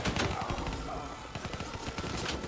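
Rapid bursts of gunfire from the video game Black Ops 3, dense overlapping shots and thuds in a busy firefight with a voice faintly underneath.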